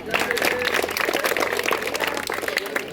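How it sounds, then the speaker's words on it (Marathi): Loud, continuous clapping from an audience at a street play about constitutional rights and duties, dense and sustained throughout with a faint voice beneath. "जोरदार टाळ्या वाजवा"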